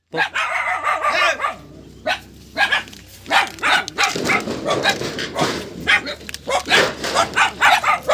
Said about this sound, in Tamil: நாய் தொல்லை நம்மளை என்ட்ரியே பண்ண விடலை